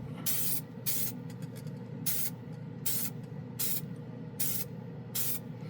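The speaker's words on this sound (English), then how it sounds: "It sprays pretty good though." Glidden Max-Flex spray paint hissing from an aerosol can in short bursts, about seven sprays of roughly half a second each with brief pauses, close and alone over a low background hum.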